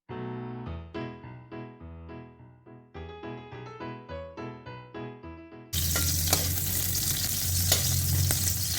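Sliced onions hit a hot pan while cooking Bicolano ginataang suso, letting out a loud, steady sizzle that bursts in abruptly after several seconds of plucked instrumental music.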